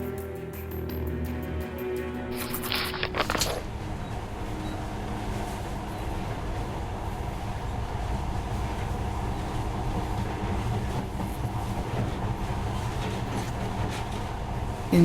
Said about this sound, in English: But now, this monorail seems magic, doesn't it?